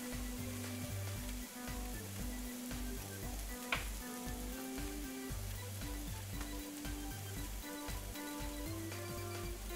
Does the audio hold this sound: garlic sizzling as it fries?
yes